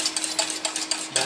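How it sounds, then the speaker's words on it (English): Warm milk and cream with agar being stirred in a pot, producing a steady rhythm of scraping, clinking strokes about every fifth of a second, close and fairly clear with no talking. "milk and cream is warm now. Just mix it well."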